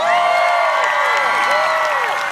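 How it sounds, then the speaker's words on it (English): Crowd applause and cheering fill the stands at a night monster truck event in Manassas, Virginia, loud and continuous, with engine-like whines sweeping through the noise. "the crowd applause right there is a giveaway"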